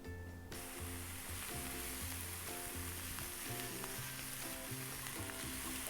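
Chopped mushroom stems and onions sauté in a hot pan, filling the air with a continuous dense sizzle and crackle, close and even, with no one talking.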